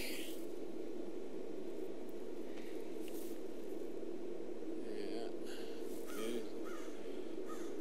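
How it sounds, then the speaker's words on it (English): Several crows caw in short harsh bursts while mobbing a bird of prey on a campus hall roof, the calls distant and intermittent over a steady low hum of background noise. "How many crows does it take to get up the gumption to"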